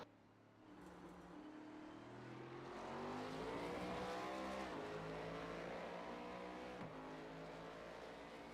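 A race vehicle at the Circuit of the Americas accelerates out of a heavy downhill braking zone into turns 17 and 18, its engine revving and rising in pitch, loud and sustained, then shifting gears.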